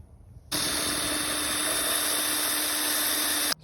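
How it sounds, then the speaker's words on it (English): A power drill runs steadily for about three seconds, a loud continuous whir with a high mechanical whine, drilling mounting holes while restoring a Heathkit SP-600 radio receiver, then stops abruptly. "I want to align this and drill my 4 holes."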